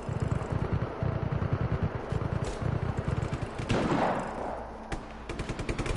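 Rapid automatic gunfire in Just Cause 3, a dense rattling string of close, loud shots that pauses briefly for a whooshing blast before the firing resumes.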